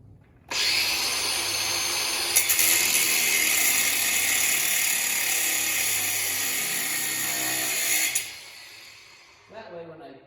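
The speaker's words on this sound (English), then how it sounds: "I'm going to take my grinder again with the cutting wheel, and I'm going to cut off a bolt head, or the end of the bolt" An angle grinder with a cutting wheel cuts off bolt ends, a loud high-pitched continuous whine with a harsh metallic screech. It runs steadily for about eight seconds, then spins down, with a brief clatter after.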